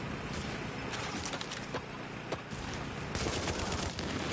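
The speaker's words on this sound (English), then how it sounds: "I got distracted by my own shooting skills here." Gunfire from shooting in the video game The Division (PS4) rattles in quick bursts and scattered shots, moderately loud and continuous, with no talking over it.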